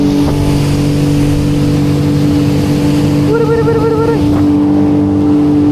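A jet ski engine drones loudly the whole time, with a whining pitch that wavers and climbs briefly midway as it throttles up from eco mode.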